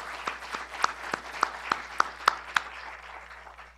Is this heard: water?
no